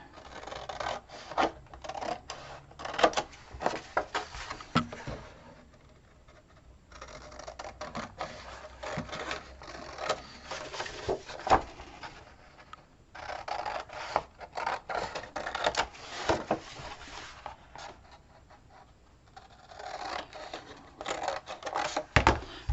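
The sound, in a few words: scissors cutting paper along lines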